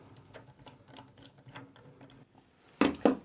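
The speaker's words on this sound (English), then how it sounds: "So I'll just finish putting in the screws." Small screws being driven into a hard drive enclosure for a 10TB WD Black drive: faint, irregular ratcheting clicks of a screwdriver, ending with two louder sharp knocks near the close.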